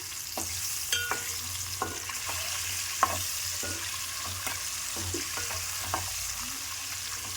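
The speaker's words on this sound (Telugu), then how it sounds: "ఇప్పుడు వీటిని ఫ్రై చేసుకుందాం" Eggs fry in hot oil in a pan for a cauliflower egg curry, giving a steady close sizzle with scattered pops and spatula taps, and no one speaking.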